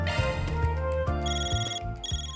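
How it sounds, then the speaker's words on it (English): A safe's built-in phone rings in the video game Trails Through Daybreak, a repeated electronic ringtone trill with steady pulses over a backing music bed, loud and close, with no talking. "Your safe is ringing"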